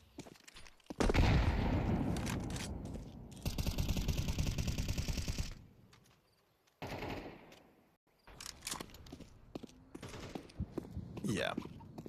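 AK rifle gunfire during a Counter-Strike match, heavy bursts of rapid automatic fire with short pauses between them, loud and close, while commentators talk over the action.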